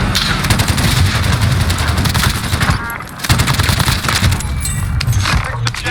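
Video game gunfire crackles in dense, rapid machine-gun bursts and scattered shots, loud and continuous with a brief lull midway.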